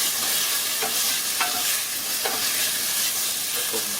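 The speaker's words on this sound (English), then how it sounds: "So now the bacon is getting nice and happy here in the pan" Strip bacon frying in a pan with no oil gives a steady, close crackling sizzle throughout, with a few scattered brighter pops and occasional stirring clicks.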